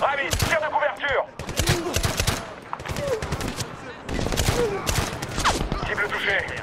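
Dense gunfire in the video game Medal of Honor 2010 crackles in bursts and rapid volleys, loud and continuous, with voices speaking over the shooting.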